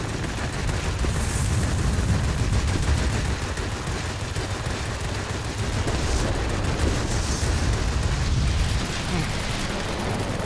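Dense, continuous combat noise in World of Warplanes: overlapping aircraft gunfire and booming explosions, loud and chaotic, with a voice talking underneath.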